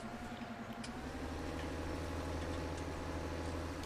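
A tractor engine in the video game Farming Simulator 17 drones steadily at idle, a continuous low rumble with a faint rising whine and no talking over it.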